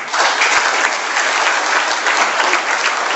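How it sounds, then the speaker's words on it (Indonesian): Sustained applause from an audience at a business launch event in Indonesia, loud and steady clapping that fills the room without a break. "Berikan aplaus dulu."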